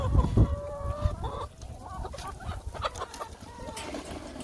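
Chickens clucking and squawking nearby in snow, a busy run of short calls over rustling and scratching, with some louder bursts at the start.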